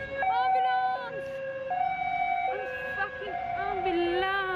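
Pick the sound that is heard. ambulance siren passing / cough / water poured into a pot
ambulance siren passing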